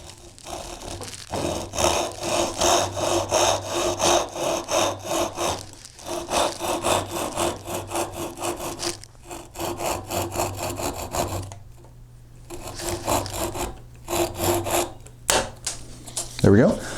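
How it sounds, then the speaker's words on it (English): A Japanese pull saw cuts wood along a marked line for a dovetail marker, with close, rapid rhythmic strokes in several long bursts separated by short pauses. "I'm going to use a Japanese saw"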